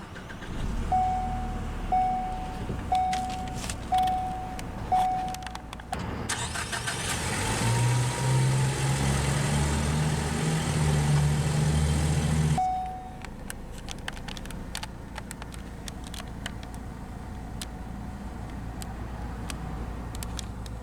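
A 2017 Ford Focus Titanium sedan starts by push button after a few soft chimes, its engine catching with a rising whir that holds for several seconds before settling into a quiet, steady idle.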